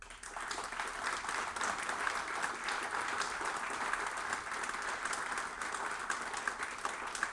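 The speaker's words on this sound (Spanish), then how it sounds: "Les rendimos un aplauso." An audience applauds steadily at a commemoration in Chile marking 70 years of the Algerian Revolution; dense, continuous clapping fills the whole stretch at an even level.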